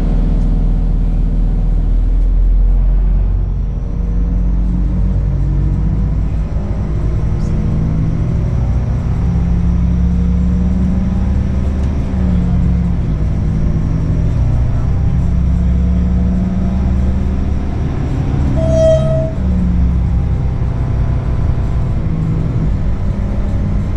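Inside a PESA 214M railcar, number SA135, running on the Izera Mountains Railway: a steady low rumble with a continuous drone, slowly shifting in pitch as the train moves, with a brief squeal near the end.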